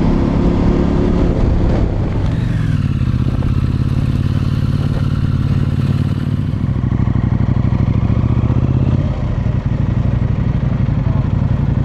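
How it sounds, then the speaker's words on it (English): A motorcycle rides along the Old Waterfall Way, its engine droning loud and steady close to the microphone, with wind buffeting and some clattering as the revs shift throughout. "Great on a motorcycle."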